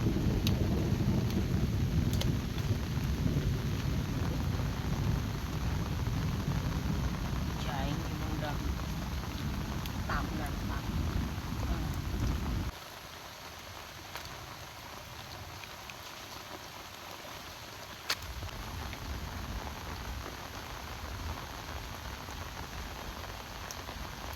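Steady rain pours through the night on a farm in the countryside, a dense even hiss that drops abruptly midway to a lighter patter with occasional drips, with no voices.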